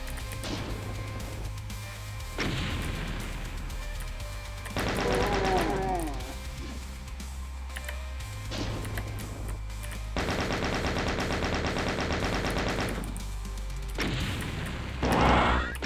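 Enemy gunfire in the video game Doom 2 comes in repeated bursts: rapid machine-gun rattles alternate with heavy single shots and explosive booms, loud and close over a constant low game drone.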